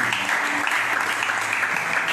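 A church congregation acclaiming ministers, a steady, even roar of clapping and cheering that holds throughout without a break.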